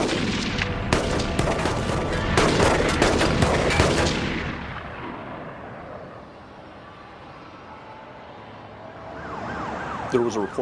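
Rapid bursts of gunfire near a school in West Covina crack loudly amid chaotic noise, then fade as a siren wails faintly in the distance.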